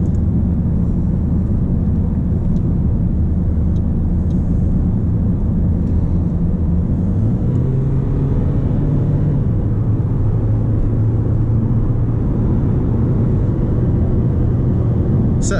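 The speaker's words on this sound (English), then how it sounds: "we can put our foot down and then see how fast we get up to 70 miles an hour." A Mercedes A-Class accelerating hard in Sport mode, heard from the cabin as a steady, loud low engine and road rumble that builds and shifts in pitch with each gear.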